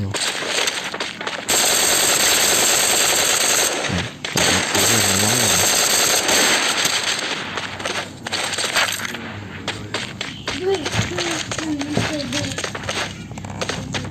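Gunfire in a shooting video game: rapid automatic bursts and shots that run almost without a break, loud and close, with a player's voice talking over parts of it.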